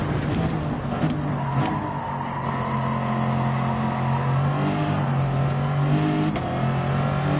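A P1 race car engine holds a sustained, loud, high-revving drone at full throttle on the Nurburgring in a racing video game, with a brief dip in pitch near the end.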